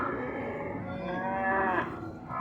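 A beef cow moos in one long, fairly close, drawn-out bellow that wavers in pitch and fades slightly at the end, with no talking over it.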